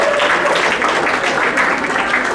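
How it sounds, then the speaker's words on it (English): A conference audience gives a round of applause for a boy named Miguel, sustained and fairly loud, with a faint voice mixed in under the crowd clapping. "Let's give him a round of applause"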